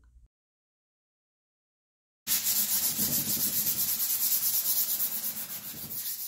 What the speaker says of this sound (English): now I'm going to do some light sanding with 320 grit.